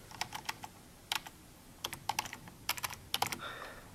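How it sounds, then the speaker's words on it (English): Keys clatter on a Mac Mini 2011 keyboard as a Wi-Fi password is typed, a quiet, close run of irregular clicks in short bursts with brief pauses and no talking. "now I'm gonna put my Wi-Fi in, so this is mine, so I'm just gonna type in the password"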